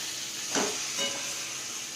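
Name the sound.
stirring fried jackfruit and potatoes with spices in a pan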